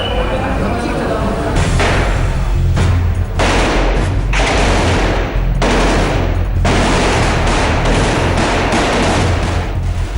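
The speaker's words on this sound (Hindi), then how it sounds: "जब गोलियों की आवाज ने हड़कंप मचा दिया" Gunfire during a terrorist attack at a railway station as the Tata-Muri Express departs, rendered as dense, loud, sustained bursts of rapid shots filling the whole stretch.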